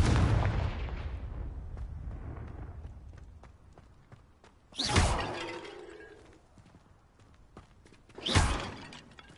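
Two bursting blasts from the Confringo spell in Hogwarts Legacy erupt a few seconds apart, each a sudden roaring crack that fades off, amid scattered game clicks, footsteps and ambient rumble.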